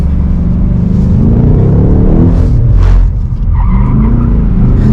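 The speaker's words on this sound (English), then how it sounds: "That's more of half a spin, but you know, still really good fun." A Ford Mustang S650 skids into a half spin, with a loud rumbling engine and long tire squeal that run steadily for several seconds, close and with no talk.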